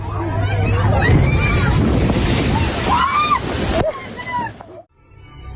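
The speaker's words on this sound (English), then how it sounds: "Look at this big wave coming." Big ocean waves off Virginia Beach, seen from a whale-watching boat, roar and slosh loudly with wind buffeting the microphone, while excited voices call out over the surf.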